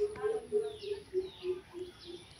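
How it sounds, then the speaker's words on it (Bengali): Two ducklings feed and make a soft, repeated peeping call at a steady pulse, faint and close by in a quiet village setting. "এখানে হচ্ছে 2টা হাঁসের বাচ্চা, তারা হচ্ছে খাচ্ছিল, কি সুন্দর খাচ্ছে না, আর গোদ গোদ একটা শব্দ করতেছে"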